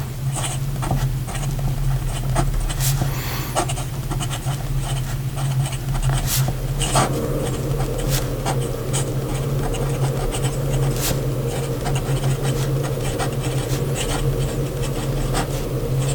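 Fountain pen with a medium italic nib scratching steadily across paper, a soft continuous rasping patter with small tapping accents, close and fairly quiet throughout with no talking.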